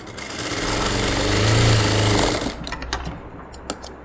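A sewing machine stitches a joint on a blouse patch, giving a loud, continuous close-up mechanical drone that swells then cuts off at about two and a half seconds, followed by a few sparse clicks and handling taps.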